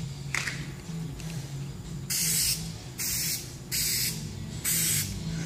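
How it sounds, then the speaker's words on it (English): Four short, loud bursts of spray adhesive hiss from an aerosol can in a regular rhythm, separated by brief pauses, with a faint spritz at the start. "put it on the table and put a little spray adhesive on there"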